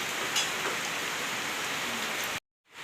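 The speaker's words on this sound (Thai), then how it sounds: "ฝนจิตกแล้วฝนจิตกแล้ว" Steady rain pours down on a rural Thai home in April, a dense even hiss of drops on surfaces that cuts off abruptly near the end.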